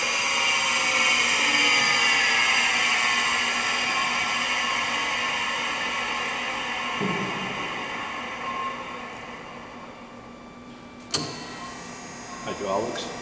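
The hydraulic oil pump on a Unison DedTru 284-0000 centerless grinder runs with a steady high whine and hum that slowly eases, broken by a couple of sharp mechanical clunks near the end.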